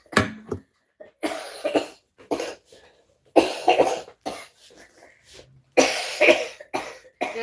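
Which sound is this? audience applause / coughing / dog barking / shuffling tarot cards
coughing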